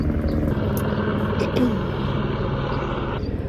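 Helicopters flying overhead somewhere in Sicily, a loud continuous rotor and engine rumble filling the whole stretch, with someone talking over it.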